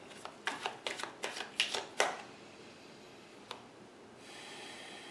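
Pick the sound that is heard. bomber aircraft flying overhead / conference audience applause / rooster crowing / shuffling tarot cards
shuffling tarot cards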